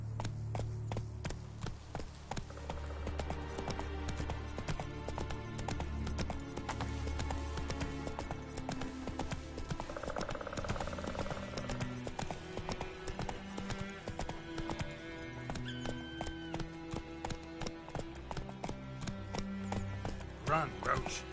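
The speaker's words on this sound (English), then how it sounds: "Run, Roach." Horse hooves from The Witcher video game clip-clop in a steady galloping rhythm under continuous game music, loud and sustained throughout.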